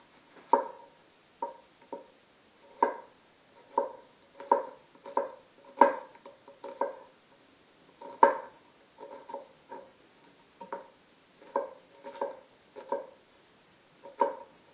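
An onion for fattoush is chopped on a board, with a steady series of crisp knife knocks, close and clear, in an uneven rhythm of roughly one or two strokes a second.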